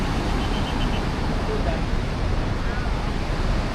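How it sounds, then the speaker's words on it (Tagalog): Ocean waves at My Khe Beach in Da Nang roaring and washing continuously close by, a dense broad rush of surf mixed with wind noise on the microphone. "Sobrang wild ng agos ay ng waves"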